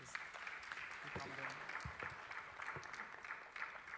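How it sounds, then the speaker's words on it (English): Audience applause for panelists at a tech week event in Nairobi, a continuous faint wash of clapping with a few louder claps and murmurs running under it. "Let's give a huge round of applause for our panelists"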